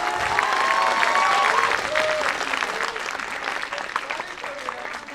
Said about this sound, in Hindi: आप तालियां बजा दो